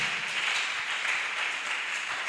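A church congregation clapping and applauding during a Sunday service, a steady, moderately loud wash of many hands without pauses.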